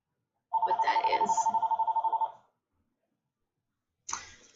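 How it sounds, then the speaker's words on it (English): A home landline telephone rings with a steady electronic trill lasting about two seconds, loud and close, followed by silence and a brief renewed burst at the end. "that's my home phone that I don't even really use"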